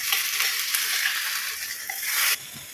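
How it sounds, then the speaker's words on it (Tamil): Mustard seeds, a dried red chilli and curry leaves tempering in hot oil, giving a loud, close, continuous sizzle and crackle that drops off suddenly near the end. "இது கூட லைட்டா கடுகு, இது கூடவே ஒரே ஒரு வரமிளகாய், கருவேப்பிலை. அவ்வளோதான் இது தாளிப்பு."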